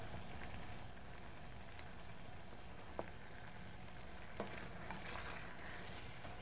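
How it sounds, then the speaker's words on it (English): Cup of cream with salt and pepper simmering in a pan for an Italian-style cream sauce, a steady soft bubbling sizzle throughout with a couple of faint clicks, no talking. "we're cooking down the cream for 2 minutes"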